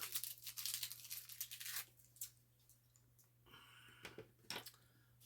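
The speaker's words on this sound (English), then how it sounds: "And if I could get this candy open" A Werther's candy wrapper is unwrapped up close, giving crinkling and tearing plastic rustles in uneven bursts with pauses, quiet overall over a low steady hum.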